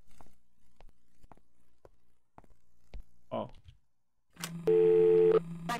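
In the horror video game Father: The Truth, a few soft footsteps lead to a steady, loud telephone dial tone that drones on alone for over a second.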